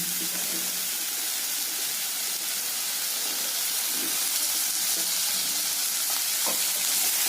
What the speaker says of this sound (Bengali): অল্প একটু নেড়ে নিয়ে ডাঁটাগুলো দিয়ে দেবো।